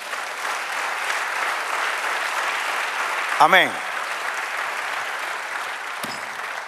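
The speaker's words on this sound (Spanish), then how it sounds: "Denle un aplauso al Señor." A church congregation applauds during a Spanish-language sermon, a steady, moderately loud wash of clapping that runs the whole time, with a brief voice breaking through midway.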